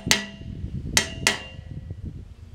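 A hammer strikes the flat side of a sawmill blade three times, with one ringing metallic hit followed by two more close together, each loud and near and trailing off into quiet room noise.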